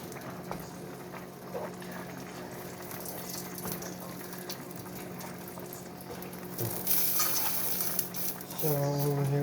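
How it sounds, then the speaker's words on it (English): Spaghetti sauce cooking in a pan, a continuous low bubbling and simmering hiss with faint stirring, growing louder and brighter near the end. "sauce is still cooking here"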